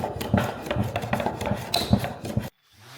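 Hand sanding of a wooden bow tie inlay after trimming with a router and plane, a rough rhythmic scraping rubbed back and forth at close range for a couple of seconds before stopping abruptly.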